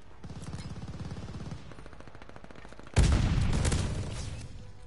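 Grenade in the video game Call of Duty: Vanguard, rapid automatic gunfire rattling for a second and a half, then a loud sudden blast that rings out and slowly fades.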